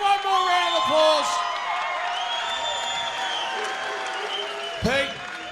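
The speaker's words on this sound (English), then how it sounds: "Give him one more round of applause" A crowd at an AFC fight event applauds and cheers the knockout winner, with steady clapping and occasional whoops filling the room under a loud announcer's voice.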